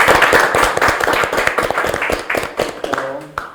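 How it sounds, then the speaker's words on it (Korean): Panel members and audience clap together at the close of an online election debate, a short burst of fairly close, uneven hand claps that thins out toward the end. "우리 서로 격려하고 또 감사하는 마음 박수 한번 할까요?"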